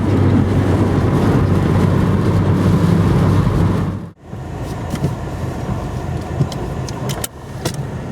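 A classic Volkswagen Type 2 van drives on a run near Powerscourt in Wicklow, Ireland, its engine and road noise a loud, steady rumble from inside with a brief dip midway.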